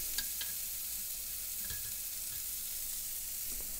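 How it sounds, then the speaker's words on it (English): Steady, close sizzling of lamb seekh kebabs on skewers frying in a hot griddle pan, with a few faint clinks and scrapes over the constant crackle. "Here I'm cooking a skewer of 3 kebabs in a griddle pan"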